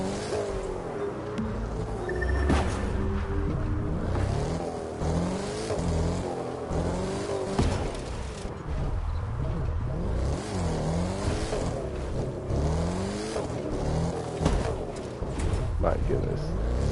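An off-road Mercedes-Benz in The Crew 2 video game drives with a steady, continuously wavering engine drone and gear-shift rises and falls, while someone talks over it throughout.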